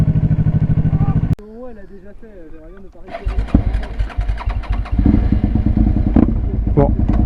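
A 2003 Suzuki SV650N motorcycle engine cranks and fires up, first a rhythmic running sound, then a brief pause with voices, then the V-twin rumbling and revving nearby with talk over it.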